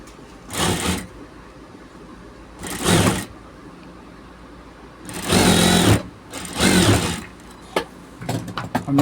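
Sewing machine stitching a button tag onto a men's shirt, running in four distinct bursts of steady whirring, two short and two longer, with quiet pauses between and a few light taps at the end.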